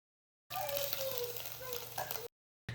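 Crushed ginger and garlic frying in oil: a bright, steady sizzle starts suddenly, holds for under two seconds and cuts off, with a brief return at the end.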